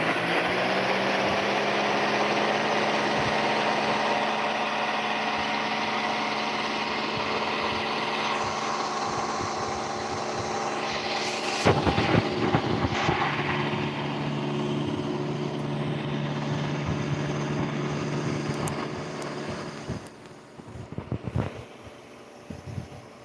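Engine of a model or game aircraft, throttle pushed up, gives a steady droning hum with harmonic tones that shift partway through, plus a few brief louder bursts. A fan runs in the background.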